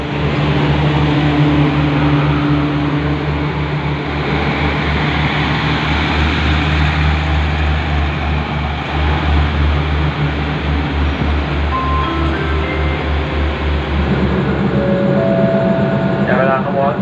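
Express train 109 at Nakhon Lampang station, Thailand, at night with second-class air-conditioned sleeper cars: a loud continuous rumble of rolling stock and engine hum, with someone talking over it throughout.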